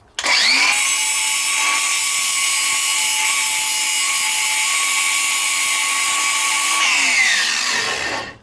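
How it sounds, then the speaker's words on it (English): A homemade grinder sharpening a tungsten welding electrode gives a high, steady whine. It spins up quickly, holds a constant shrill tone for several seconds, then winds down, close and loud with no talking. "I've got a little homemade grinder here"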